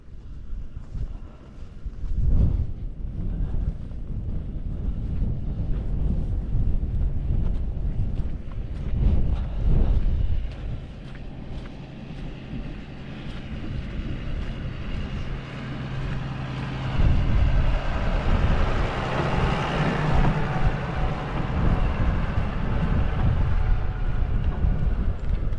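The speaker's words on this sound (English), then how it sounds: "And here comes our tractor again." A tractor drives along hilly countryside on the Purbeck Ridge in Dorset, its low engine drone rising and growing closer over the second half, mixed with steady wind noise buffeting the microphone outdoors.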